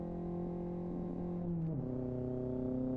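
A modded car engine in the racing game Live For Speed drones steadily at a high pitch, bouncing off the rev limiter and briefly dipping before settling at a constant buzzing tone, with no talk over it.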